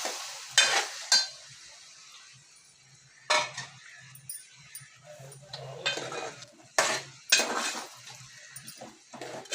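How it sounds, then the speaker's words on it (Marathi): Tomato paste and onion paste being sautéed in a pan for chicken biryani, with soft sizzling under repeated loud scraping and clinking of a spoon against the pan in irregular bursts, close and without speech. "ही पेस्ट परतल्यावर आपण त्यात घालणार आहोत हे पाव किलो पेस्ट केलेले टोमॅटो। तेही छान आपण परतून घेणार आहोत।"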